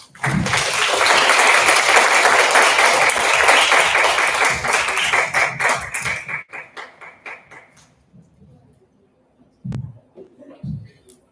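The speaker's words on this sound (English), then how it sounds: "Please join me in giving our panelists a round of applause." Audience applause for the panelists at a community mobilisation seminar, a dense, steady burst of many hands clapping that carries loudly for about six seconds before thinning to scattered claps and fading out.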